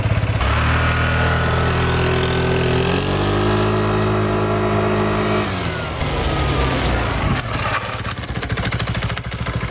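A 2008 Piaggio Fly 150 scooter, just rebuilt with a new crankshaft, is ridden away: a loud, steady engine drone whose pitch rises as it accelerates, dips, and then gives way to rougher, choppier running near the end.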